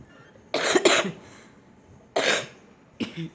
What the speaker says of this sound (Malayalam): ഈ ചുമ പൂരത്തിന് കിട്ടിയതാണ് ഗൈസ്